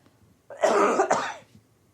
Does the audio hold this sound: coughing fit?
yes